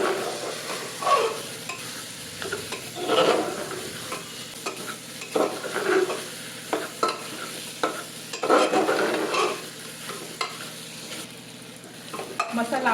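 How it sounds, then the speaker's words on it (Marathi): Biryani masala sautés in a pan for masala rice, soft sizzling broken by repeated scraping stirs of a spoon against the pan, quiet and close with no voices. "चांगलं परतून घेऊया. चांगलं परतलं की त्याचा स्वाद पण छान उतरतो त्याच्यात."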